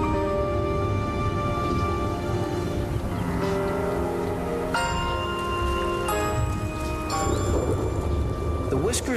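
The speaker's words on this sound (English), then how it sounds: "They can see the storm approaching." A thunderstorm with steady heavy rain drumming on surfaces as the storm approaches meerkat territory, with sharp cracks of thunder breaking in midway, loud and continuous throughout.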